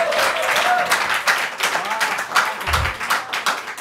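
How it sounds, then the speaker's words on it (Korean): Audience applause at a church Christmas youth service, a brisk spread of clapping heard under and around a voice talking, with a low thump partway through. "박수 한번 칩시다"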